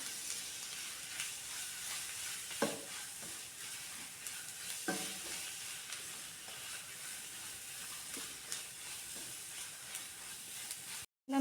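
Chicken with masala, garam masala and ground pepper is stirred in a pan for a Kerala-style chicken curry, giving a soft, steady sizzle with occasional scraping strokes, quiet and close, with no voices and a brief handling bump at the end.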